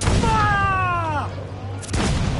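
Ship cannon fire in Assassin's Creed IV comes as deep, booming blasts at sea, with one shot near the start and another loud boom near the end. A falling tonal sweep and some voices sit in between.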